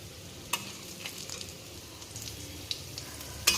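Faint, steady sizzling of whole garam masala, cumin seeds, bay leaves and dried red chilies in hot oil, broken by a few sharp pops and clicks, with no voices.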